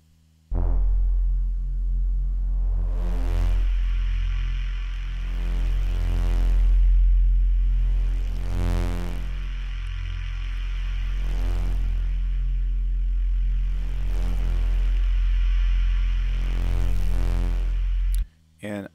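A deep, sustained neuro synth bass with distortion and chorus drones with a shimmering, wavering quality, pulsing in slow swells and stopping abruptly near the end.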